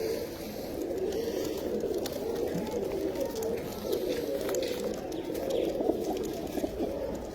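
White pigeons coo in a continuous low, warbling murmur close by, several birds overlapping steadily throughout.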